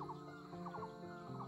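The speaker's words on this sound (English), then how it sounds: "Can you hear this beautiful songs by the beautiful birds?" Farm fowl cluck and call in short repeated bursts near a hillside vegetable field, faint against a steady background hum.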